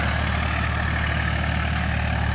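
Mahindra 265 tractor engine running at full depth pulling a cultivator, a steady low diesel drone, close and continuous throughout.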